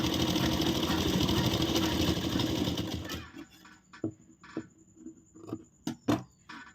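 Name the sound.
sewing machine doing final stitch on blouse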